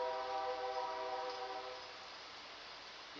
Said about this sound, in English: yes, train, keep going.